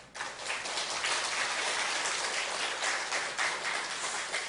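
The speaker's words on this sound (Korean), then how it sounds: "우리 한번 자축하면서 박수 한번 합시다" Congregation applause during a Sunday afternoon church service, a dense, even wash of clapping that sounds almost like rain and holds steady throughout.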